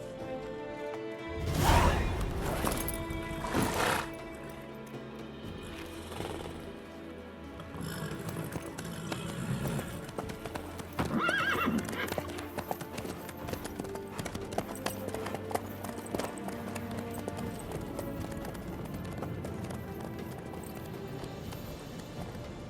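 A horse gallops with a steady clip-clop of hooves in The Witcher 3, carried under an orchestral score with occasional whooshes and a brief loud swell near the start.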